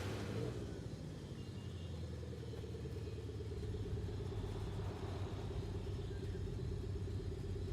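A 784 hp four-cylinder car in Forza Horizon 5 drones with a steady, buzzing engine note, a close, sustained rumble that holds a fairly even pitch and loudness throughout.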